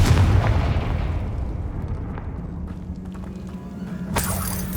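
Fire-spell explosion from the Confringo charm in the video game Hogwarts Legacy, a loud rumbling blast at the start that fades into a low ongoing hum, with a second sharp burst near the end.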